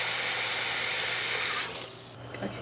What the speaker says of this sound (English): So we want to fill this up with cold water and we want to go over the potatoes.